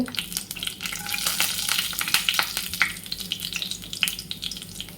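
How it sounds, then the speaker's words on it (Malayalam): Mustard seeds and urad dal fry in hot coconut oil, giving a close, steady sizzle packed with sharp pops and crackles that go on for the whole stretch. "വെളിച്ചെണ്ണ നല്ലോണം ചൂടായിട്ട് ഇതിലേക്ക് നമ്മൾ കുറച്ച് കടുക് ഇട്ട് കൊടുക്കണേ"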